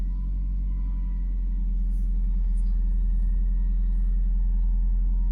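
An old high-mileage banger car, about 30,000 miles on the clock, idles steadily just after starting, with a low, even engine rumble and a faint hum that holds constant throughout with no voices.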